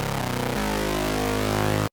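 Serum synth brass stab with resonance at zero and a 12 dB high-pass filter at 150, sustained and steady with thinned low end, loud and alone for about two seconds before stopping abruptly.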